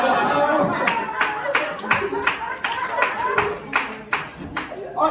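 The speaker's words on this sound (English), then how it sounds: "You should have saved that applause and laughter for when I was actually telling the joke." Audience at a comedy showcase claps in scattered, uneven bursts, a series of sharp hand claps close by rather than a full ovation, with a voice talking over parts of it.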